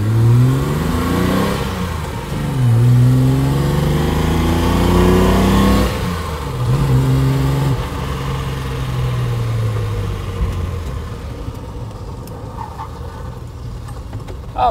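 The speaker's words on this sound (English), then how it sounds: "watch again as I accelerate out of first" A 1968 Mercedes 280SEL with a four-speed gearbox pulls hard out of first gear, its engine rising in pitch as it revs, easing off, then climbing again before settling into a steadier drone, close and loud with no talk.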